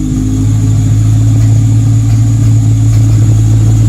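A cold turbocharged Nissan S13 240SX idles steadily and close by, its low engine hum holding a constant drone with a slightly uneven, lumpy pulse throughout.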